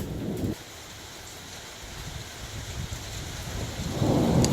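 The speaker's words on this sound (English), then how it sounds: "It's still raining, so this is water from right now." Rain falls steadily outdoors onto a Toyota Tacoma with a BakFlip F1 tonneau cover, a soft, even hiss with heavier rumbling gusts at the start and end, no voices.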